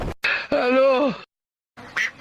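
A duck quacks twice in quick, loud, nasal calls close by, followed by a short pause and a softer, brief quack.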